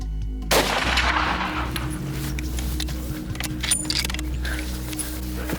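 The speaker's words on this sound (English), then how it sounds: "I was able to hit this bugger with one good shot" A single loud rifle shot fired at a hartebeest about 125 yards away on a plains-game hunt in brush country, a sharp crack with a rolling tail followed by quiet outdoor rustling.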